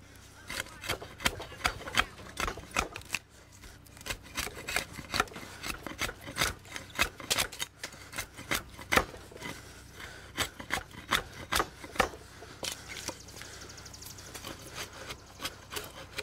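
Slick chisel paring and dressing a chainsawed half-dovetail notch in a log for log construction, a run of repeated scraping, rasping strokes close by, steady and uneven in rhythm, with no talk.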